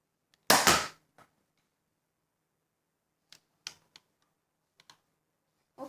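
A toy pistol fires one sharp, loud cap-like crack up close, followed by a few faint, scattered clicks from handling in an otherwise quiet room.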